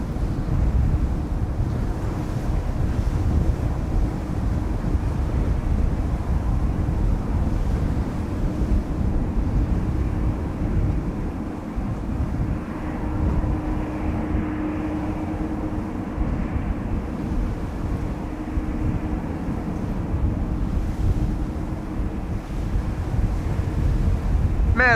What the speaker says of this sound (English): Man, I'm almost tearing up here with the wind blowing directly in my face.